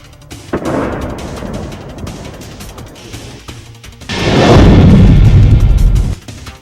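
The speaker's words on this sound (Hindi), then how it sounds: "पहले अटैक के बाद आसमान में धुआं उठता है, इसके बाद दूसरा धमाका होता है, वहीं कुछ ही सेकंड के बाद तीसरा ब्लास्ट होता है।" Explosions follow an attack. A deep, rumbling blast swells loudly, then gradually fades, after an earlier, softer burst.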